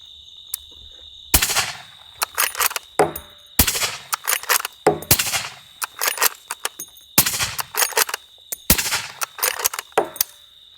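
Suppressed Barrett MRAD rifle firing five rounds of .338 Lapua, each shot a sharp loud crack with a trailing echo, spaced roughly two seconds apart, over a steady high insect-like hum in the background.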